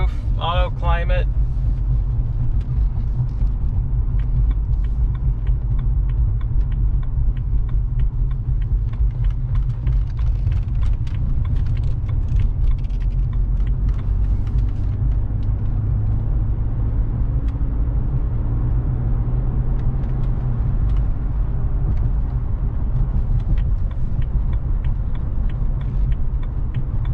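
A 2006 BMW 330i Sport Package runs down a ramp up to highway speed, heard from inside the cabin as a steady, loud engine and road rumble with a brief clatter at the start.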